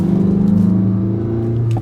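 A Mazda CX-5 pulling away, its engine giving a steady, close-up low drone with a slight rising hum as it gathers speed, heard from inside the cabin with no talking.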